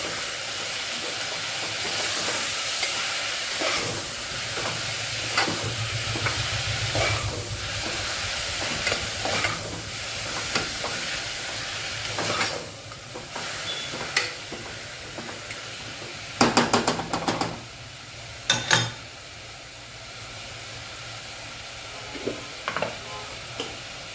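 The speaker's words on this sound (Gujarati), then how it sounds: "અને ટમેટાની પ્યુરી પણ ઉમેરી દઈશું અને બધું મિક્સ કરી લઈશું" Vegetable khichdi with added tomato puree is stirred in a pot, a soft continuous simmering hiss broken by irregular spoon scrapes and a few sharp clanks against the metal, close by, no talk.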